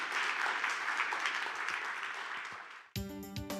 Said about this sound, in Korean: 김웅서 박사님 큰 박수로 환영해 주십시오